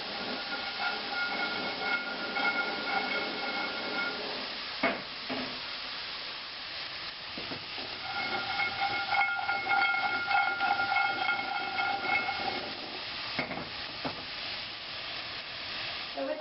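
Walnuts toasting in a hot cast iron pan give a steady close hiss and sizzle throughout, with occasional scraping and stirring sounds as they are kept moving, and no talk.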